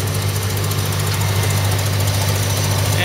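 An International 1070 Hydro tractor engine runs steadily at an antique tractor pull in Athens County, a loud, continuous low rumble with constant vibration throughout, no voices over it.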